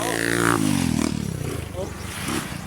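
A motorcycle engine passes close on a road, its revving pitch rising and then falling away as it goes by, while a person talks over it.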